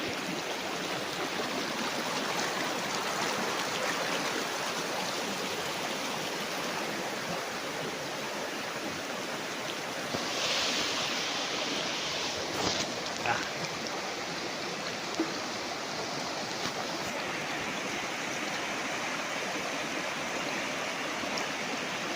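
A river runs beside a hillside farm lot in Majayjay, Laguna, its broad rushing wash steady and loud throughout, with faint voices now and then.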